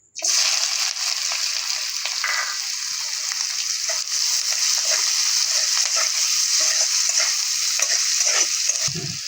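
Onions frying in hot oil in a pan for snail curry, a loud, steady sizzle that starts abruptly and continues throughout, with occasional stirring clinks and a soft thump near the end.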